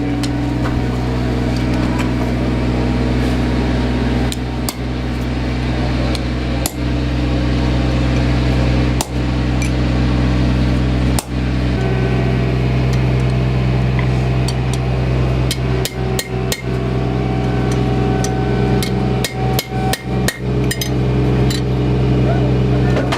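At a blacksmith's forge, a hole is punched in steel by hand with sharp hammer strikes, scattered singly at first and then in a quick cluster, over a loud steady drone of forge blower or fan.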